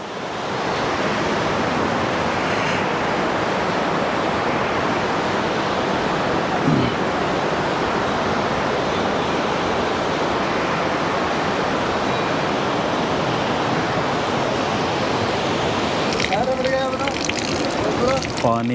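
The Alaknanda river rushes steadily past its bank at Rudraprayag, a broad, constant roar of flowing water filling the scene, with a brief muffled voice near the end.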